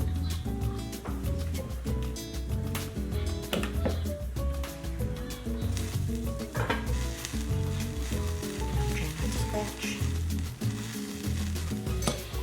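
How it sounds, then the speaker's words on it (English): Tofu and eggs are stirred and broken up in a hot pan, a steady dense sizzle with frequent scraping and tapping of the utensil. "So then I'm going to add our tofu with the eggs. Mix. break this down a little bit."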